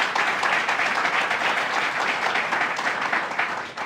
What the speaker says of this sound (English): Let's give him another round of applause here.